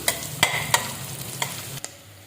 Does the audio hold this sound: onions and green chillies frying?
yes